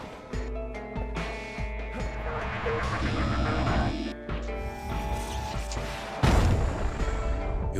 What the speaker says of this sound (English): this is where the cannon comes in